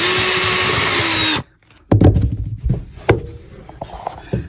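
A power drill drives screws into an RV table pedestal, a loud whirring burst that cuts off abruptly, followed by scattered knocks and clunks of handling nearby.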